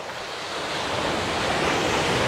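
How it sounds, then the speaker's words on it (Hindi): Rough sea waves break on the Zanzibar shore, a loud, continuous roar of surf with wind rushing over it, rising slightly and with no voices. "क्योंकि सी इज स्टिल बहुत तेज है पानी"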